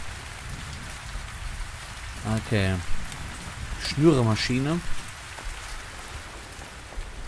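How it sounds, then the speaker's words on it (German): Rain falls steadily in a survival video game, a constant soft hiss of drops on surfaces running throughout while someone speaks briefly in German over it. "Schon wieder Regen. Es regnet, mein Gott."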